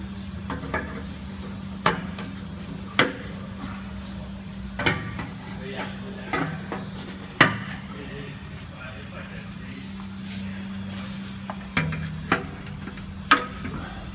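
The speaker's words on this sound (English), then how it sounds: "We're going to use our handy dandy hanger removal tool." A hanger removal tool pops rubber exhaust hangers loose from a muffler during a budget muffler installation, giving a scattered series of sharp clicks and knocks over a steady low hum in a garage.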